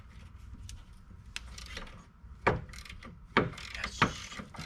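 A hand ratchet clicks in short bursts while loosening bolts on a Syncro van's suspension, quiet rapid pawl ticks with a few sharper knocks and clanks of metal between the strokes.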